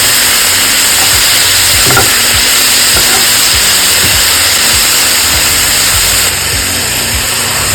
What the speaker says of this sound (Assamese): এতিয়া হালধি এড কৰি দিছোঁ আৰু কেঁচা জলকীয়াকেইটা এড কৰি ভাজি ল'ম শাকখিনি